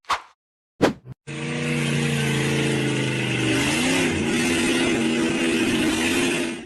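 A yellow off-road buggy engine roars loud and sustained as it accelerates hard over a dirt ridge, its pitch wavering slightly mid-way, after a few short bursts at the start.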